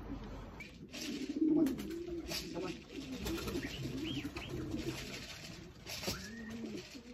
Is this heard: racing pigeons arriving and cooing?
yes